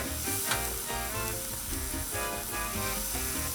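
Thin steaks seasoned with salt, pepper and garlic sizzle steadily on a Blackstone 22-inch griddle, a loud, continuous frying hiss with no talk over it.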